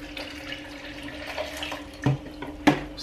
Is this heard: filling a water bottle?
yes